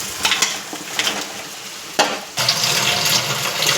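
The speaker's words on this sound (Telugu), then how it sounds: "అవునండి, మొత్తం చికెను ఇప్పుడు ఫ్రై అవ్వాలన్నమాట అండి." Chicken pieces frying in oil with onion and tomato paste, giving a steady close sizzle with a few stirring scrapes and a louder burst near the middle as food is moved in the pan.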